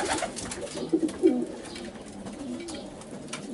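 Racing pigeons coo softly a few times amid a low, murmuring background.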